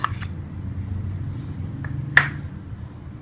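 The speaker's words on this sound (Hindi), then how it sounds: "ये हम घी डाल के इसको अच्छी तरह से मिक्स कर लेंगे।" Utensil clinking against a bowl while flour, semolina and ghee are stirred together for biscuit dough, a few short bright clinks over a low steady background hum.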